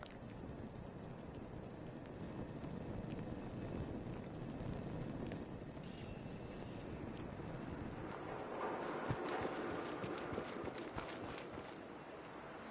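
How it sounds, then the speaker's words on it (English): A donkey's hooves clop steadily in Fallout 4, a continuous rapid patter blended into a dense wash of ambient game noise that thickens slightly toward the end. "A video game donkey."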